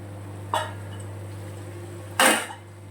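Malabar spinach greens go into a cooking pot for a labra dish, two brief clattering bursts against a steady low hum, the second louder and longer.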